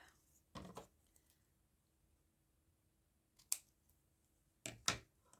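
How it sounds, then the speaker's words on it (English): Scissors trim strips of old magazine paper into faux washi tape, giving three separate crisp snips against a quiet background. "just trimming down right to the edges of the tape"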